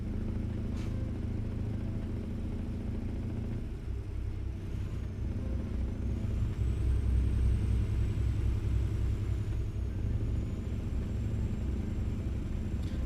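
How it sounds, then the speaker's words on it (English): A car drives close in a delivery-challenge video game, its engine a steady low rumble that swells and holds without any voices. "Oh shit, I got a car here. It's gonna run me over."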